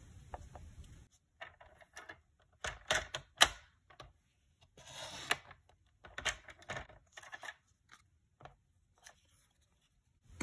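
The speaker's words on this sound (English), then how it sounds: "I'm going to cut a square off from the top." Paper trimmer blade slicing a square off card stock for a 7-panel faux quilt card, heard as several sharp, close clicks and scraping cuts in short bursts with pauses between, no talk.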